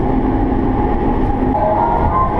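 A Seoul metro train runs along the line, giving a steady loud rumble and rolling hum with faint tonal whine, heard continuously from inside the carriage.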